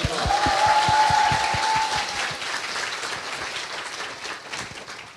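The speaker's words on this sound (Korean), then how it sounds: "박수 부탁드립니다." Audience applause during a Korean political talk show taping, a dense burst of clapping that starts loud and gradually thins out over about five seconds, with no voices on top.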